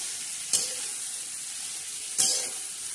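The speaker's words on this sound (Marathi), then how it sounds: "आता ह्याच्यामध्ये या तडक्यामध्ये आपण ही उसळ आपली अशी सोडली, टाकली, मस्त अशी हलवून घ्यायची" Sprouted legumes for usal are tipped into hot oil tempering and stirred, giving two sharp bursts of sizzle over a steady frying hiss.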